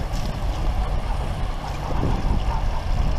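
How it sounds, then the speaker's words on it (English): A sailboat's engine runs on Lake Huron, a steady, close low rumble mixed with wind and water noise, with no one speaking. "you'll notice the engine"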